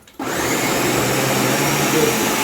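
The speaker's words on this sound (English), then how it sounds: "we got the blender fully loaded with all of our ingredients" A blender loaded with fire-roasted salsa ingredients kicks on abruptly and runs at a loud, steady whir, close by and uninterrupted, with no one talking.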